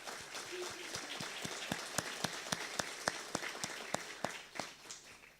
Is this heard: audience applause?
yes